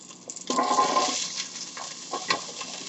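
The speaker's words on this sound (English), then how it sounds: "let's go ahead and put the vegetables in. Everything except the potato." Chopped vegetables for lentil soup hitting hot bacon fat in a pan, giving a sudden burst of sizzling hiss that keeps crackling steadily at moderate, close volume, with a few stirring clatters.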